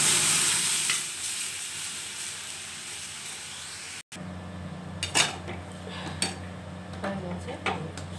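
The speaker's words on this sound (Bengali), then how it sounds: "ডালটা ফোড়ন দিচ্ছি।" Dal is tempered with spices in hot oil, a loud hiss that cuts off abruptly, followed by quieter bubbling, clinks of a spoon against the pot and a faint voice.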